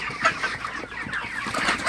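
Broiler chickens, about 35 days old, clucking and chattering steadily on a farm, a dense flock close by with brief louder calls rising over the constant murmur.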